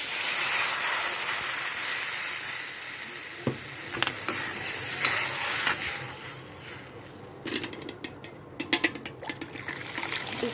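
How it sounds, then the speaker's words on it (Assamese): Water poured into a hot cooking pan over ginger, garlic and chilli paste, giving a steady steam hiss and simmering sizzle with sharper crackles and spits near the end, close and fairly loud. "এতিয়া মই ইয়াতে পানী দি দিম।"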